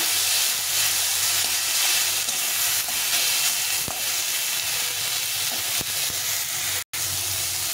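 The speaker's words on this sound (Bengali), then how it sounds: "হলুদ দিয়ে এটাকে আবার একটু নেড়ে করে ভেজে নিতে হবে" Continuous hissing sizzle of tomatoes frying in a pan with turmeric, steady and fairly loud, with a few soft clicks and a brief cut near the end.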